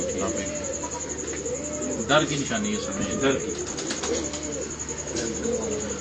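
Pigeons coo steadily and close by as they are handled, their soft rolling calls running under a voice, with a constant high electronic whine in the background.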